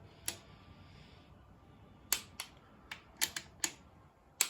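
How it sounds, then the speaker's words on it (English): Torque wrench clicks as a connecting rod on an engine's number 1 piston is tightened, a series of sharp, close, quiet clicks in uneven bursts against a faint background hum. "just torquing up our number 1 piston we pulled out"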